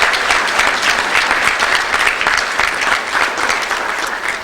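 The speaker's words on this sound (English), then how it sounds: "Have a round of applause for her." Guests at a university breakfast meeting give a sustained, fairly loud round of applause, a thick even patter of many hands clapping with no talk over it.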